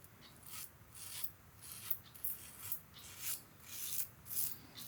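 Safety razor with an open comb shaving three-day stubble, a faint rhythmic rasping scrape repeating in short strokes about twice a second, close and quiet.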